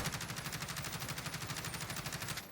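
Rapid, evenly spaced automatic gunfire from a bipod-equipped gun fired prone at longer range in the video game Warzone, a continuous fast burst of sharp reports with no talk.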